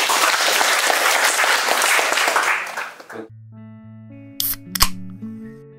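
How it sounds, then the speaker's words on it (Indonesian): An audience at an agricultural service event claps loudly for about three seconds, then the applause cuts off abruptly. A brief electronic tone and two sharp camera-shutter clicks follow in near silence. "Tepuk tangan."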